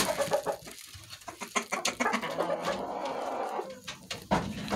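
Chickens cluck up close in a quick, uneven series of short calls and squawks that overlap at times, loud and prominent with no talking.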